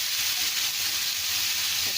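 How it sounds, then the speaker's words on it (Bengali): Ginger and garlic paste frying in olive oil for a yogurt rohu fish dish, a steady bright hissing sizzle with faint stirring underneath, close and even throughout, no speech. "আদা রসুনটা আমি এটার সাথে একটু ভালো করে ফ্রাই করে নিচ্ছি।"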